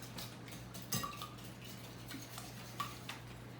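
Eggs whisked in a bowl for a bacon and spinach quiche, light metallic ticks and scrapes of the whisk against the bowl, quiet and intermittent over a low steady hum.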